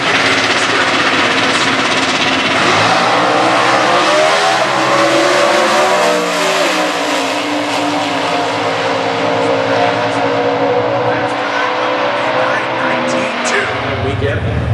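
A 2010 Dodge Challenger drag pack race car with a naturally aspirated 426 cubic inch engine idles loudly, then revs hard through rising gear-like sweeps before settling back, close and powerful, with a commentator talking over it.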